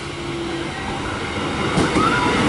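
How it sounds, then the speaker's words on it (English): A Melbourne suburban train, a City Loop or Flinders Street service, pulls in at Hawthorn station, with a steady rail rumble and some faint wheel squeal carrying over the platform, and no voices. "Okay, I've got another train arriving."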